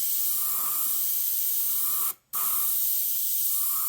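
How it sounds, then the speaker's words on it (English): An airbrush sprays pastel colour for a sunrise painting of distant mountains and water: a steady, close airy hiss running continuously, cut off for a brief moment midway before resuming at the same level. "Just stay far away with the airbrush"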